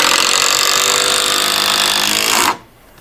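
Power tool driving screws during winter house framing, a loud, continuous high-pitched whir that runs steadily and then cuts off abruptly near the end.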